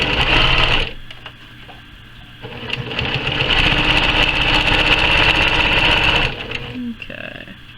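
A sewing machine stitches quilt pieces for a Delectable Mountains quilt, its steady mechanical whir running close and loud for several seconds between brief pauses, with handling noises around it.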